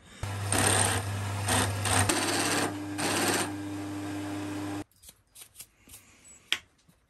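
A round column milling machine drills a large chamfer recess halfway into a metal workpiece, a loud steady motor drone with grinding cutting noise for about five seconds, then stopping into quiet clicks and handling.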